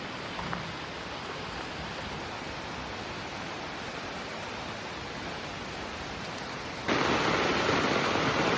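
Steady rain pours down on a rainy day near a pond, a dense even hiss that continues unbroken and grows slightly louder and brighter in the final seconds.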